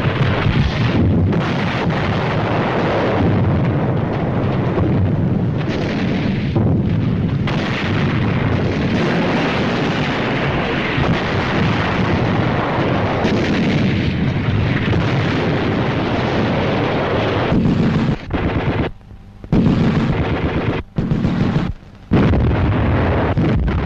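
Heavy artillery cannon booms and rumbles continuously, loud overlapping blasts with a few sharp gaps near the end, like a sustained bombardment.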